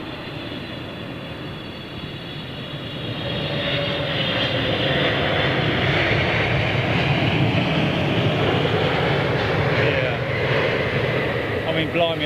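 Qatar Airways Boeing 777 at Heathrow Airport giving a broad engine roar that swells after a couple of seconds and holds loud and steady, with people talking under it.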